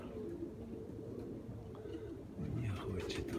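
Pigeons coo in low, rolling murmurs close by, steady throughout and growing a little louder near the end, with faint background noise and no clear talking.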